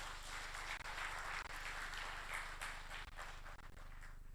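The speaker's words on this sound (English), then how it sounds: "Can we give him a loud round of applause?" Audience at an end-of-year company party gives a round of applause: a dense, steady wash of many hands clapping, fairly quiet and sustained without a break for the whole stretch.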